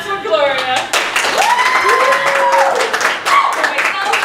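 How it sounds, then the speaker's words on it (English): Audience at an improv comedy theater show clapping to vote for a performer, mixed clapping and cheering with whoops and voices over it, fairly loud and busy throughout. "Clap for Gloria."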